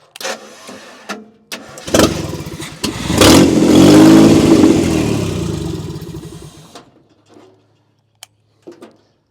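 An MGB with a broken exhaust manifold cranks and fires, then revs hard in a long rough, loud swell before cutting off into near silence, with a few clicks at the end.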